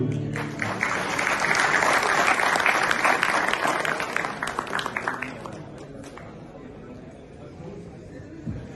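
An audience at a university poetry recital (kavi sammelan) breaks into loud, dense applause, which holds strongly for about five seconds and then gradually fades to scattered claps and murmurs.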